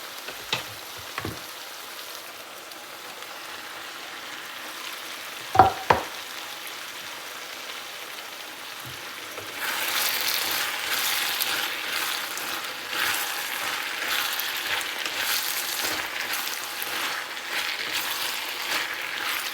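Bell pepper and potatoes cook in a pan, starting as a quiet low sizzle broken by a few sharp utensil knocks, then growing into a louder, dense frying hiss after potatoes go in, with no talking.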